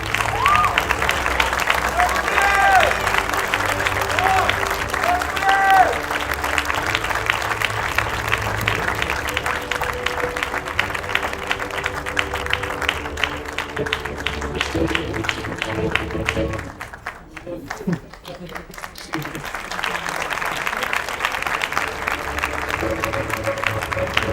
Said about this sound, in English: Please give a big round of applause to Ukuri Edrisinghe.